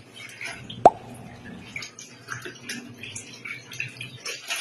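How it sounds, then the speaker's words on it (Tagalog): Water sloshes and splashes inside a washing machine drum, with a sharp knock early on, followed by gurgling, dripping churning sounds. "tingnan nyo ang ikot ng tubig sa washing machine"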